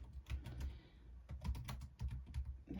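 Fingers typing on a computer keyboard, close, irregular clusters of soft clacking keystrokes with short pauses between bursts.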